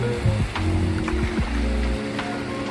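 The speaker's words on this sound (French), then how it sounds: "Un petit peu de vague aujourd'hui." Small waves lapping on open water before a triathlon open-water swim, a continuous close splashing wash with a low rumble and a few brief sharper splashes.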